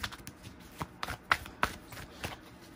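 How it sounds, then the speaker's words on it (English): Tarot cards being shuffled by hand give a run of light, crisp riffles and taps at close range, irregular and quiet with no talking. "I try to shuffle off cam"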